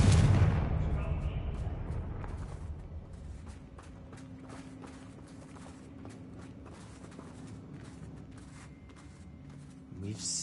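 A Confringo fire-blast spell bursts in Hogwarts Legacy, a heavy booming impact at the start that fades into a low rumbling tail, with scattered clicks and game ambience following under a quiet voice.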